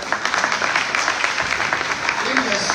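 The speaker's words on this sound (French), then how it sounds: "Et on les applaudit, les jeunes. On les applaudit." Audience at a graduation celebration claps steadily and densely, a sustained wash of applause with voices mixed in.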